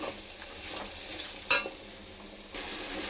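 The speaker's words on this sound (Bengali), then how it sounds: "তো এটা ভালোভাবে হালকা আঁচে এটাকে ভেজে নেব পেঁয়াজ বাটা আদা রসুন এগুলো সব আছে" Onion, ginger and garlic paste fries gently over low heat, a quiet steady sizzle with light stirring scrapes and one sharp clink of the spoon midway, close by with no voices.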